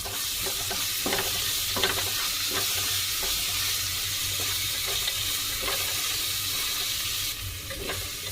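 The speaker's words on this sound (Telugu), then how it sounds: "అల్లం ఎల్లిగడ్డ పేస్ట్ అయితే జర స్మెల్ అనేది పోయేదాకా మంచిగా వేపుకోవాలి" Ginger garlic paste frying with onion paste in a pan, a continuous loud sizzle under irregular scraping stirs of a spoon, close and unbroken for several seconds, no speech.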